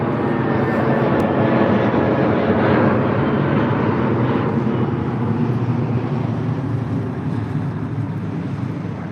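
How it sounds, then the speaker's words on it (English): A British Airways Airbus A320 departing London Heathrow, its jet engines making a loud, steady roar that holds throughout with broadband rumble and no voices. "British Airways off to Hamburg, A320."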